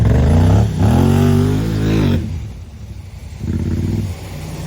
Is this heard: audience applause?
no